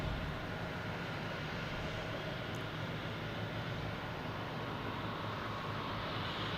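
A Delta Airbus A220 taking off from Boston Logan Airport, bound for Dallas-Fort Worth, with a steady broadband engine roar that stays constant and fairly loud throughout.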